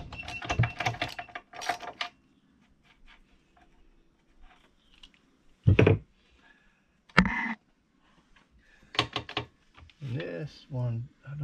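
Gears of a 727 TorqueFlite automatic transmission are turned by hand on the bench during a rebuild, giving a few sharp metallic clunks and soft ratcheting clicks, close and quiet, with someone talking at the start and end.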